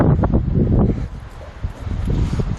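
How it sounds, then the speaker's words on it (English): Gusty outdoor wind buffeting a microphone, a steady low rumbling roar with rustling swells throughout, loud and close. "Let me get out of the wind so I'm not killing your ears."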